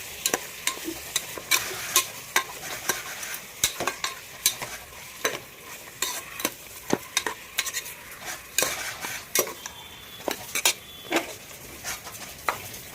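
Mutton and ground masala fry in ghee in a pan, with a continuous soft sizzle broken by repeated sharp scrapes and clinks as a spoon stirs the mixture, close and alone.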